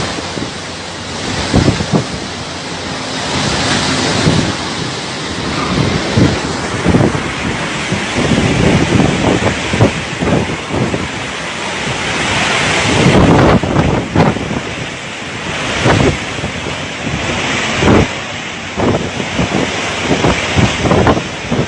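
Storm surge water and strong wind on Abaco after Hurricane Dorian, a continuous loud roar of surf and gusting wind buffeting the microphone throughout.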